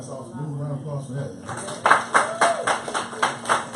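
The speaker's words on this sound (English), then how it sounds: "Move around, applause for that." A talking voice gives way to a round of audience applause at a meeting, with distinct loud claps in an uneven rhythm that continue to the end.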